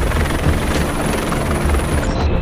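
A Fennec military scouting helicopter flies close and loud. Its rotor gives a steady, dense thumping roar that fills the whole short stretch and starts to fade only at the very end.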